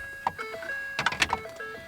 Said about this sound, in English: I apologize for the beeping, but it's because I can't pull the keys out